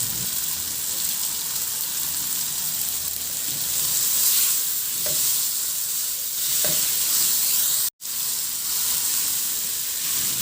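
Tomatoes sautéing in a pan, a steady close sizzle and hiss with occasional scraping stirs and one brief cut to silence, no talking.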